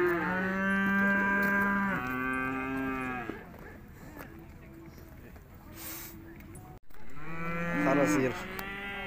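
Cattle at the Urzhar livestock market moo loudly and close by: two long drawn-out calls, a stretch of crowd murmur, then another moo.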